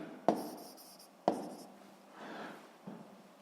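A pen writes on paper in short, scratchy strokes, with a few sharp taps as the tip meets the page. It is quiet and close, with no talking.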